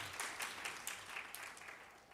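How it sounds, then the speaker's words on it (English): A session audience at a private-sector workplace dialogue gives a short, fairly faint round of hand clapping, scattered individual claps over a couple of seconds with no one speaking. "I think the session deserves a hand clap that's commensurate."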